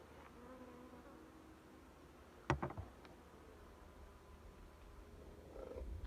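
Honeybees buzz faintly in a low, steady drone as beehive frames are inspected before winter, with a single sharp wooden knock midway.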